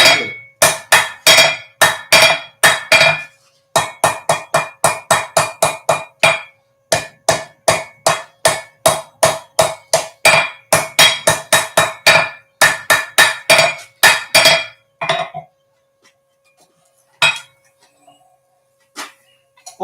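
A hammer forges a steel railroad spike into a boomerang, striking loud, close, ringing blows in fast, even runs of a dozen or more with short pauses between them. The blows thin out to a few scattered strikes near the end.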